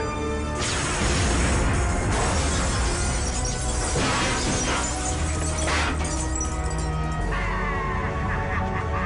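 A grenade explodes in a video game, a loud, sustained crash and roar with shattering debris that fills the clip from start to finish.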